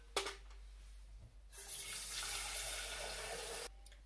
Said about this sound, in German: werde ich jetzt den Reis in einem Sieb gut abwaschen, solange bis das Wasser klar durchfließt